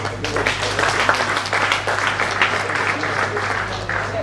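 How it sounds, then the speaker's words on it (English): A crowd at a citizens' engagement meeting on a state draft budget claps together in a dense, steady burst of applause that fills the whole moment, close and fairly loud, with no talking over it. "can we just clap for 1 second for them?"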